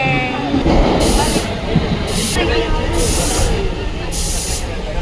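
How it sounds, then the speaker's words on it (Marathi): A train pulls into Thane railway station in a crowded scene, with loud, repeated bursts of brake hiss over a steady rumble and a background of voices. "ठाणे स्टेशनला आणि आमची ट्रेन आली आहे"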